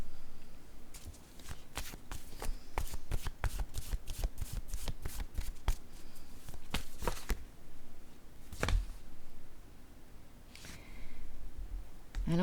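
A deck of cards is shuffled for a romance card reading: crisp riffling bursts and rapid flutters repeat close by. Quieter pauses fall between the bursts, and no voice is heard.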